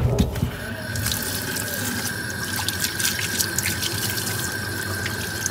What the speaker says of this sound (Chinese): 咱们先把猪蹄儿啊去清洗一下